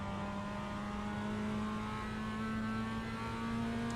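A Mazda MX-5 Cup race car accelerates on track at Okayama, its engine a steady, rising drone heard from inside the car, continuous and fairly loud with no talking.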